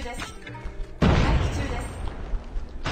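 A grenade blows up in a video game, a sudden loud boom that breaks out about a second in and then trails into rumbling, crackling noise, with gunfire and voices mixed in around it.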